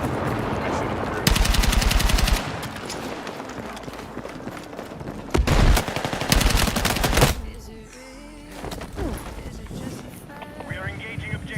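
Automatic and rifle gunfire in the Battlefield 6 beta, rapid bursts of shots in several loud, close volleys with quieter distant firing between, under a player's talk.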